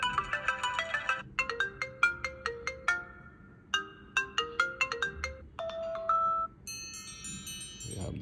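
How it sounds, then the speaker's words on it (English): Default ringtone of an iPod Touch 5th generation, a bright chiming marimba-like melody in repeated phrases, fairly loud and clear with no talking. "We have the same default ringtone here as well."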